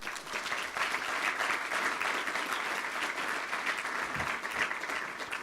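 An audience applauds a young engineer receiving the Prix Jeune Espoir award, a full, even round of clapping from a sizable crowd that carries steadily for several seconds without talk.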